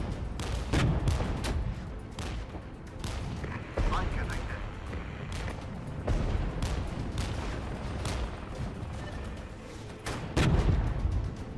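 Gunfire and artillery in the modern-warfare strategy game Regiments, with repeated sharp shots and heavy booms at irregular intervals under steady battlefield noise while someone talks throughout.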